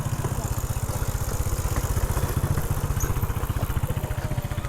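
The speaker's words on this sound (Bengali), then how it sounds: "এই দেখুন বার্মা মোটরসাইকেল" A Burmese motorcycle engine idles in a village near the Myanmar border, with a steady, rapid low thumping pulse throughout, close by and continuous.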